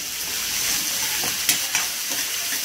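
Chopped onions sauté in a pan over a high gas flame, giving a steady, fairly soft sizzle with a couple of brief stirring clinks partway through.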